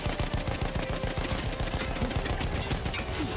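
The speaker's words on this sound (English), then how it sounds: "Your gun does overheat if you fire continuously for too long. These machine guns put off a lot of heat" Machine gun fire in Battlefield 1, a steady rapid burst of loud shots hammering away continuously with no pause, close and dense, no voices.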